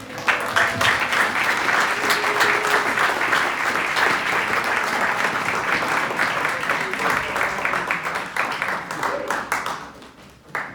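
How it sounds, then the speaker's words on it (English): Sustained applause from a town hall audience at Iowa Wesleyan University, dense steady clapping that fills the room for about ten seconds before tapering off near the end. "let's give a round of applause"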